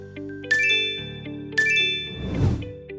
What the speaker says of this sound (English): You will receive a notification confirming the action.